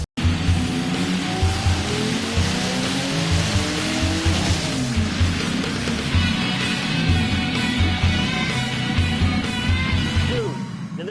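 A turbocharged 1979 air-cooled Porsche flat-six runs hard on a dyno, a loud, sustained roar with rising harmonic sweeps and steady broadband turbo and exhaust rush filling the whole stretch, no talking over it.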